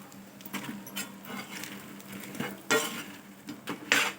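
Spoon scraping and stirring fried egg manchurian with garam masala in a pan, soft intermittent clinks and scrapes over a low sizzle, with a few sharper metallic knocks near the end.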